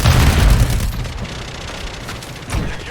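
A grenade explosion in the video game Call of Duty MW3, a loud, heavy boom that rumbles and fades over a couple of seconds, followed by a smaller thud.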